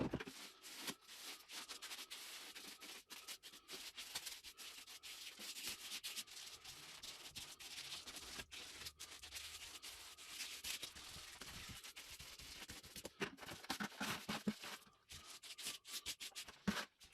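A trowel works a creamy 2-to-1 perlite lightweight concrete mix, giving a continuous close scraping and rubbing with brief irregular pauses, heard alone without talk.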